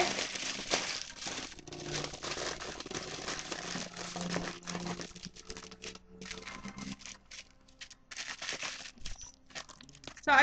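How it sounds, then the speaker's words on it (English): A banana being wrapped in aluminium foil, a steady close crinkling and crumpling of the foil that goes on for several seconds with brief pauses. "at this point, I just wrap my banana in foil"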